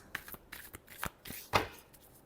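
Tarot cards being shuffled by hand, a few quick, close riffles and slaps in short bursts, the loudest near the end, with no voices.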